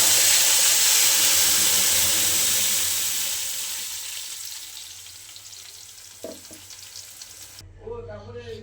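Tomato paste hitting hot oil with fried garlic, a loud steady sizzle that slowly fades, ending in a soft clatter and a short quieter patch.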